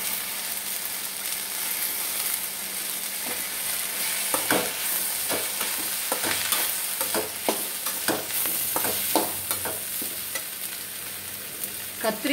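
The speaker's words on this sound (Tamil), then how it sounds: "இப்போ வந்து கத்திரிக்காய் கட் பண்ணி வச்சுருக்கேங்க அது போட்டுக்கிறேங்க" Cut brinjal pieces sizzle steadily in a hot pan as they are sautéed for kara kuzhambu, with scattered sharp clicks and scrapes of stirring over the constant frying hiss.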